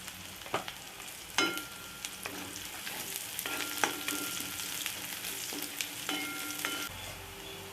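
Onion and garlic with a pinch of asafoetida frying in oil for a curry leaf gravy, a steady close sizzle broken by regular spatula scrapes and clinks, with no voices.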